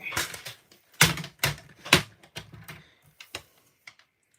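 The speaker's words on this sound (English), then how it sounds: "let me just trim this down a little bit more" Cardstock being trimmed with a paper trimmer while crafting a card, heard as a quick series of sharp, close clicks and slicing snaps in irregular bursts, with quieter ticks tapering off toward the end.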